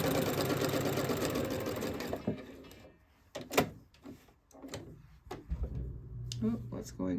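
A sewing machine stitches a towel with a fast, loud mechanical whir for about two seconds, then stops, leaving scattered clicks and fabric handling, and a short buzz of the motor near the end.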